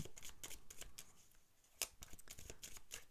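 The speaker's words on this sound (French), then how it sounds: "On va tirer 3 cartes pour savoir, pour connaître le message par rapport à cette carte." Tarot de Marseille cards shuffled and drawn by hand, a run of soft, quick paper riffles and slides with one sharper card snap near the middle, close and quiet with no talking.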